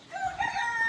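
A rooster crows once on a desi chicken farm where tiger chickens are kept, a short, loud, close call with a rising then held tone.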